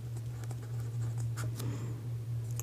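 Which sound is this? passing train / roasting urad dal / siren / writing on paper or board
writing on paper or board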